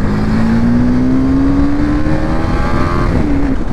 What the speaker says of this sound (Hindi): आज गाड़ी बहुत ही गर्दा वाला चला रहे हैं, फुल एग्रेसिव मोड, जहाँ जगह मिला तुरंत खींच रहे हैं